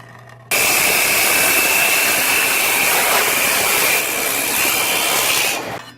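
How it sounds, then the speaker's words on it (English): A Shopsmith multipurpose woodworking machine set up as a drill press runs loud and steady, a constant whining motor hum with a high tonal whine that starts abruptly and fades near the end, with no talking. "So I got my shopsmith set up in the configuration of a drill press."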